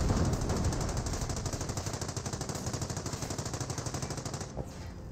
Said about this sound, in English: 30 cal placement now receiving some fire